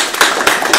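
A small audience claps after an idea presentation at a medical IT brainstorming event, a short burst of loud, close hand claps with a few distinct slaps.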